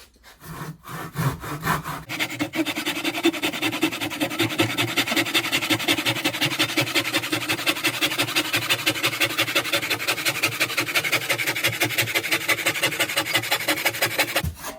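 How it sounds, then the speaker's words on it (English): A hand saw cuts wood in a miter box with a steady, rapid back-and-forth rasp that keeps an even rhythm for about twelve seconds, close and clear after a few short opening strokes, with no talking. "And I'm going to line it up in the miter box. Okay, and so now we're ready to make our first cut."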